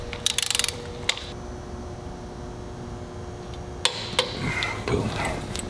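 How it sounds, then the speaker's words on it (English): A torque wrench tightens a 1/4-20 bolt with a series of quick ratcheting clicks, then sharp isolated clicks and a second burst of ratcheting, close and clear with no talking. "We're going to set our torque wrench to 20 foot-pounds. That is the specification for a 1/4 20 bolt. Make sure it's actually tightening it."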